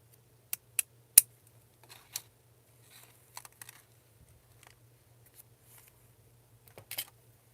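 Postage stamp scissors snip through paper while a journal embellishment is being made. Several sharp, close cuts come in small irregular bursts, with quiet gaps and a faint low hum between them.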